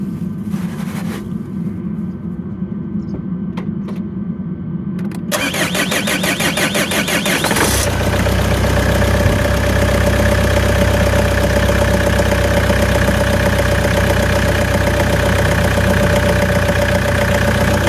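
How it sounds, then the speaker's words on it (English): A van engine cranks over for a few seconds, catches, then settles into a steady, loud idle that drones on evenly to the end. "We can start the engine now anyway"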